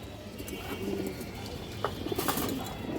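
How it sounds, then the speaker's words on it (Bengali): Pigeons of a stone-eyed kajla-patterned breed coo softly in low, murmuring phrases, with faint chirps and light rustles in the background. "কাজলা গিয়ারের পাথর চোখের কবুতর"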